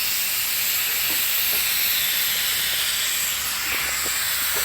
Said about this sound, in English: I think they're bleeding down the boiler, so it's a little bit noisy.